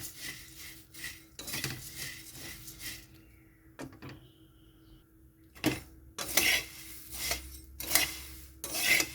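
Puffed rice is stirred in a frying pan with a utensil, giving repeated dry scraping and rustling strokes that come in uneven bursts with short quiet gaps.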